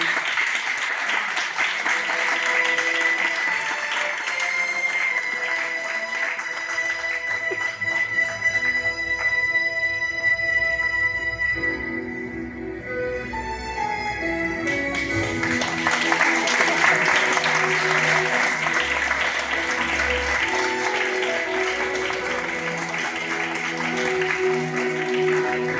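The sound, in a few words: applause welcoming the president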